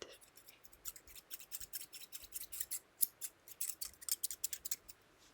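Scissors from Italy or Spain snip and click close up in a quick, uneven series of sharp metallic cuts, with faint handling rustle between them.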